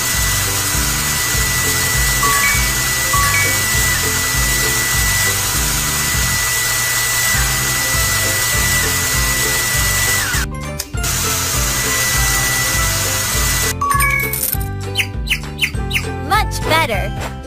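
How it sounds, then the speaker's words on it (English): Hair dryer drying feathers in a kids' animal salon video game, a steady whirring hum over a bouncy looping music track, with short squeaky game effects near the end. "Dry the feathers."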